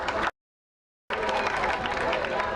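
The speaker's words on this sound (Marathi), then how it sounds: "टाळ्या होऊन जाऊ द्या" An audience at a college engineering event applauds in a hall, giving a dense roar of clapping that cuts out briefly, then returns at full strength.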